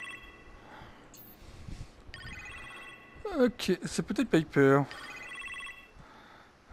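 A telephone rings in the Iron Man VR game on PlayStation VR: a burst of bright, repeated electronic ringing tones that rises loudly for about a second and a half, between stretches of talk.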